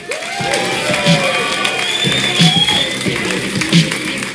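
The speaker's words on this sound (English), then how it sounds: "So, ladies and gentlemen, one more time, a round of applause." A large crowd at a live Clash Royale event in Helsinki applauds and cheers steadily, clapping and shouts blending into a loud, continuous roar.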